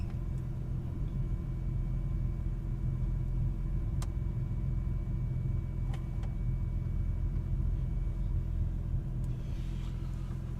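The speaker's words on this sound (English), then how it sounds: "I'm going to let the car idle for about 10 or 15 minutes" A silver 1999 Porsche 911 Cabriolet engine idles with a steady, even low rumble heard up close and throughout. A few faint clicks occur, and no one speaks.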